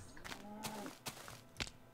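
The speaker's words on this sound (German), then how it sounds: "Das war eine Kuh übrigens, kein Creeper." A Minecraft cow lets out a short, low moo amid a few sharp clicks and game noises, fairly faint and with no one speaking over it.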